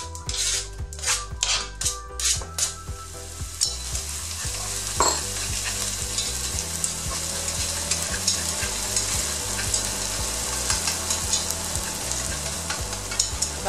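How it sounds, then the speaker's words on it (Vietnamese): Shallots and garlic frying in hot oil in a pan for a vegetarian potato stir-fry, with a steady close sizzle throughout, preceded by several sharp scraping and stirring clicks at the start, no talking. "mình sẽ phi thơm hành tỏi bên bếp bên đây"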